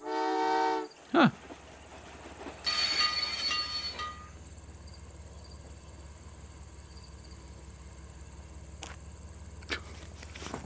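A train in the game Old Man's Journey sounds a short whistle, then rumbles with a low steady drone and a faint high ring, with light clatter and soft footstep-like ticks at a moderate distance.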